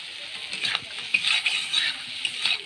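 Crab pieces sizzling in hot oil while being stirred, a close steady frying hiss broken by scraping stirs and small pops.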